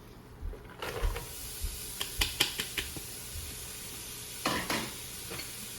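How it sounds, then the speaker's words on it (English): Onions stirred and sautéed in butter in a pan for chicken noodle soup, a soft sizzle under scattered scraping and clacking strokes of the utensil, close and fairly quiet, with no talk. "Spread this around, get the butter on all the onions."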